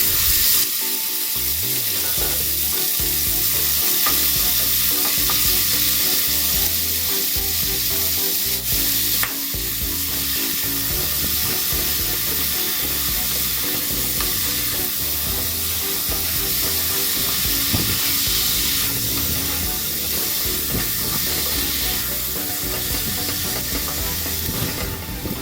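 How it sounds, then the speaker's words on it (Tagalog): Pork for Bicol Express sizzles and fries in a wok, a loud continuous crackling hiss with occasional stirring scrapes, close and alone without talk. "Pour the pork into the wok and saute it until light brown."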